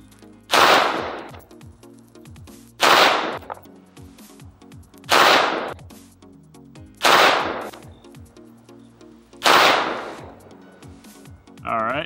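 An Arex Rex Zero 1 pistol fires Speer Gold Dot G2 147 grain rounds: five loud, sharp shots spaced about two seconds apart, each with a brief echoing tail, outdoors at a range.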